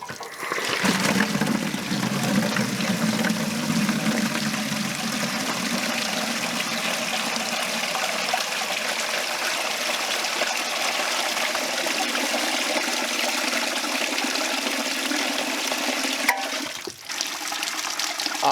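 About 10 gallons of water drain out of an RV water heater onto the ground in a steady, loud rushing gush that keeps on without a break and ends with a brief bump near the end.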